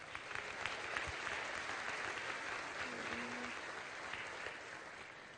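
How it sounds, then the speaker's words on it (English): Audience applause at a high school graduation ceremony in a large hall, a sustained, moderately distant wash of clapping holding steady throughout, with faint crowd murmur underneath. "let's give another round of applause to David Nevith."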